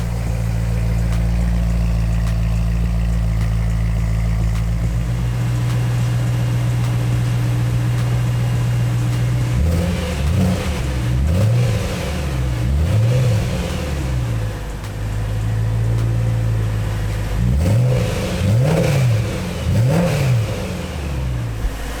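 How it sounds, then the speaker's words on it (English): A low-mileage BMW M3 with a performance exhaust idles with a deep, steady drone, then revs repeatedly in two bursts of rising and falling blips, loud and close, with no talking. "the performance exhaust actually does sound really good"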